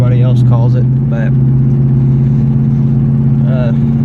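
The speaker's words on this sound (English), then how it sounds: "I have an exhaust leak. Pretty hefty." Nissan Titan truck engine with a hefty exhaust leak, idling in cold weather with a loud, steady low drone and rumble throughout, while someone talks over it.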